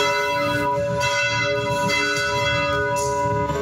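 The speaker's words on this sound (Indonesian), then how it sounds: "Gereja Katedral Jakarta membunyikan lonceng pada Sabtu sore bersamaan dengan pemakaman Paus Fransiskus" Church bells of Jakarta Cathedral peal on a Saturday afternoon during a papal funeral, a dense, loud, sustained wash of ringing tones with overlapping strikes and no pauses throughout.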